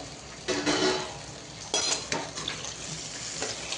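A metal lid lifts off a pan of sweet potato slices frying on a low flame, followed by clattering scrapes of a spoon stirring against the pan, several distinct clinks spread over a few seconds, without speech.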